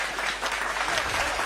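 Applause from an audience at a Hindi poetry recital, a brief, steady patter of many hands clapping at moderate volume, with no voices over it.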